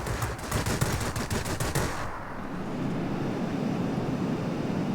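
Rapid machine gun bursts rattle out for about two seconds during a World of Warplanes dogfight between a BVP and a Spitfire, then give way to a steady aircraft engine drone, loud and close with no voices.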